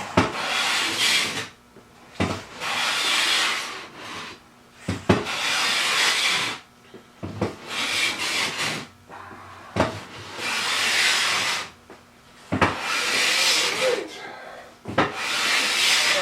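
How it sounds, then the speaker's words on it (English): A hand plane shaving mahogany boards for a buffet, with long rasping strokes repeated about six times, each lasting one to two seconds and separated by short pauses, close and loud. "Very happy with how the shavings are coming off."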